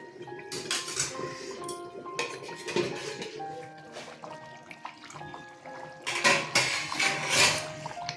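A metal lid clatters and clinks onto a pot of chicken and potato curry after hot water is added, with scattered close knocks and faint liquid sounds.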